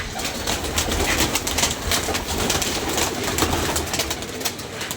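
Pigeons cooing on a rooftop amid loud, dense outdoor noise and rustling, the low coos partly buried in the steady clatter.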